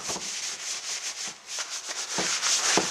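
Steady rubbing and wiping strokes with a hissy, papery texture as a paper towel wipes sanding dust off a plastic motorcycle skid plate, repeated rhythmically back and forth at close range.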